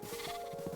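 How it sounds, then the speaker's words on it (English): A sheep in the Minecraft video game gives a short, wavering bleat, close and moderately loud, with no talking over it. "Okay, there's some sheep"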